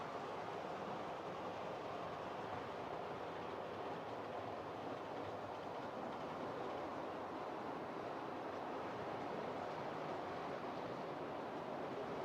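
Class 37 and 47 diesel locomotives roll past on all-metal wheels at modest speed, giving a steady, continuous loud rumble and rail roar with no talk over it.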